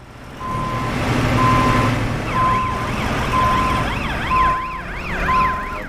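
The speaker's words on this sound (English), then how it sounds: "Sounds like a scene from Starsky and Hutch there, don't it, that police car?" A police car siren wails in Euro Truck Simulator 2 in a repeating up-and-down sweep. Evenly spaced electronic beeps and a low truck engine hum run underneath it.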